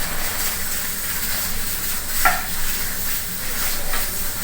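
Chicken paratha sizzling on a hot tawa griddle, a steady close hiss and crackle of frying throughout, with a brief clink of a utensil midway and no voices.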